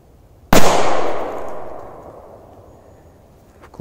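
A bundle of firecrackers goes off in one sharp, loud burst, followed by a decaying crackle and rumble that fades over several seconds, with a faint click near the end.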